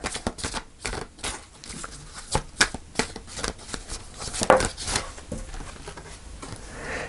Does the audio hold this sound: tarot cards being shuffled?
yes